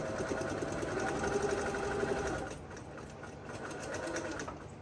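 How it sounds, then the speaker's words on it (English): A Baby Lock Jane heavy duty straight stitch sewing machine runs at a steady, fast stitching rhythm, close and loud, then slows and quiets briefly before picking back up, with no talking. "My machine is a Baby Lock Jane. It's just a straight stitch machine. It's a heavy duty machine."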